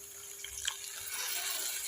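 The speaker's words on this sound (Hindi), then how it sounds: "तो अब इसी टाइम हम इसमें 3 टेबल स्पून के लगभग पानी डाल देंगे" About three tablespoons of water are poured into masala frying with onion, a soft splashing sizzle that rises midway over a steady hiss, with no voices.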